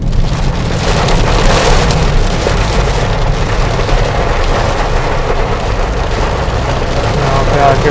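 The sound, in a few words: heavy rain falling in a forest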